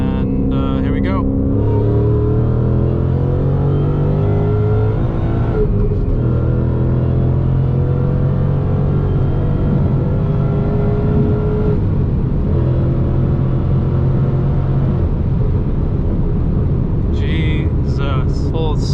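A supercharged Ford Mustang in track mode pulls at wide-open throttle from third gear, its engine roaring loud and steady with rising harmonics through the run and a faint supercharger whine muffled by a closed airbox.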